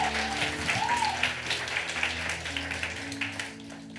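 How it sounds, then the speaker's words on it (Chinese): Church congregation applauding during a Sunday service, steady warm clapping from many people with a faint voice briefly audible underneath, tapering off near the end. "再一次热烈掌声"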